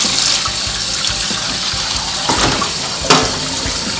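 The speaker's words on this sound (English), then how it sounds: "We'll now wash the ultrasonic fluid off our parts." Tap water runs steadily in a sink, gushing over clock parts to rinse off ultrasonic cleaning fluid, with a couple of louder splashes near the end.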